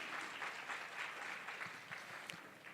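An audience at a literature festival session applauds a Hindi-medium topper, a soft, steady patter of many hands clapping throughout at low volume, somewhat distant.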